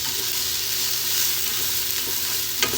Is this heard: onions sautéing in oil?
yes